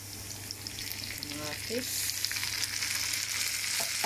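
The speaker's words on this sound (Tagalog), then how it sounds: "Fried the pork, onions, garlic, a little bit of ginger and chilies, and there's the munggo." Pork, onions, garlic, ginger and chilies fry with mung beans in a pan, a steady crackling sizzle that grows louder as ingredients are stirred, with a brief spoken word over it.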